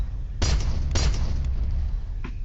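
Revolver gunfire in the video game Ultrakill: two sharp, punchy shots about half a second apart, then a softer third shot, all over a steady low rumbling background.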